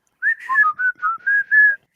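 A person whistles a short tune of about six clear sustained notes, rising and falling in quick succession, close and alone with no other sound.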